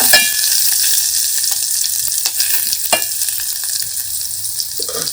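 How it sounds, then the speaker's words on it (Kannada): Onion and curry leaves frying in hot oil with mustard seeds, a loud, dense, steady sizzle with a few stirring scrapes, close up. "ಅದು ಸ್ವಲ್ಪ ಗೋಲ್ಡನ್ ಕಲರ್ ಬರೋವರೆಗೂ ಅಲ್ಲಿ ಎಣ್ಣೆಲಿ ಫ್ರೈ ಆಗಬೇಕು"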